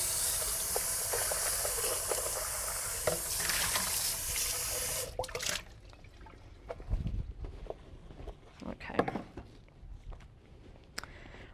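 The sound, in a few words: washing a blender under running tap water in sink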